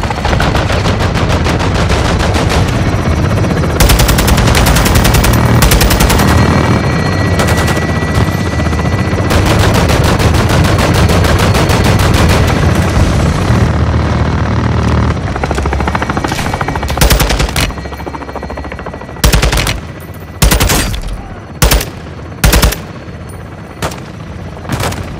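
Sustained automatic gunfire from Call of Duty Modern Warfare II, a loud continuous barrage of rapid shots that later breaks into several short, separate bursts, with no talking.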